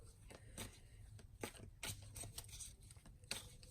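Tarot cards are shuffled by hand in a quiet room, giving soft, repeated riffling and patting bursts that come in an uneven rhythm, close and faint.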